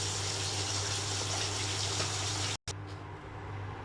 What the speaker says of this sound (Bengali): এখন আমি এটাতে জল দেব।